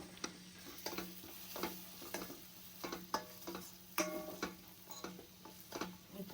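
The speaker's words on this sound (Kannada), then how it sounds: "ನೀವು ಒಣ ಕೊಬ್ಬರಿನ ಚೆನ್ನಾಗಿ ತುರಿದು ಫ್ರೈ ಮಾಡಿ" Grated dry coconut frying in a pan for vangibath, with a soft, quiet sizzle broken by regular scraping and tapping strokes of a spatula.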